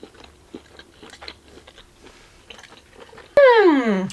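Someone bites into a mushroom from a Japanese bento and chews it, giving a few soft, close wet bites and mouth sounds before a louder voice rises at the end.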